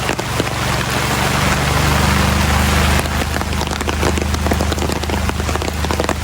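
Rain falls on a vehicle parked near a vegetable garden, a steady loud hiss that gives way to distinct, closely spaced drops pattering on the surface, with a low engine-like hum underneath.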